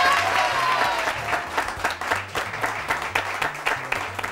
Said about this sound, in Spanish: ¡Aplaudan a Paco!